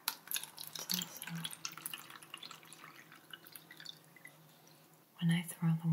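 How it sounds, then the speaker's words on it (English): Water poured into a plastic cup, soft close drips and trickles with a whispering voice over them, then a louder pouring burst at the end. "when I throw the water in the cup"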